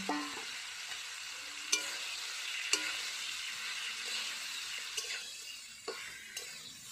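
Chalta (elephant apple) pieces stirred in a frying pan with dried chillies, panch phoron and bay leaf for pickle, a soft steady sizzle punctuated by a few sharp clinks of the spatula against the pan.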